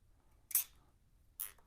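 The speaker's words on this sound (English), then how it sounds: "we'll just zip tie these to the other harness." A zip tie is pulled tight around a motorcycle wiring harness on a 2023 Lifan KPM 200, giving two short, sharp ratcheting zips close by, separated by a brief quiet gap.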